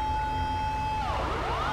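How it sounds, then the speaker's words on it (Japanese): A police car siren in Grand Theft Auto V begins wailing in the middle, its pitch sweeping up and down over a steady background hum. "おー、パトカーの応援が来たよ。"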